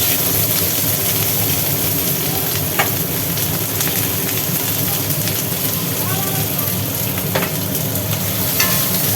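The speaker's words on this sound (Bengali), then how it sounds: "আবার কড়াই তেল দেওয়া হয়েছে এইবার তেলের মধ্যে দিয়ে দেওয়া হলো পেঁয়াজ" Onions hit hot oil in a wok, already used for frying morola fish, and sizzle loudly and steadily throughout, with occasional stirring clinks and faint voices behind.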